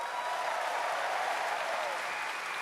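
Steady, dense applause from a large audience at the Gamescom Opening Night Live show fills the hall evenly and loudly without a break, with no distinct voices rising above it.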